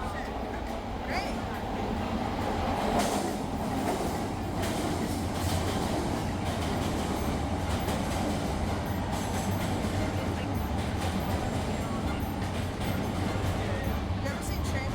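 A Chicago subway train rumbles along in a steady, loud ride, wheels clattering on the rails beneath the car, while people talk over the constant roar.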